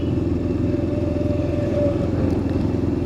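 Suzuki and Yamaha motorcycles on a road give a loud, continuous close engine drone with a rough, clattering texture and no break.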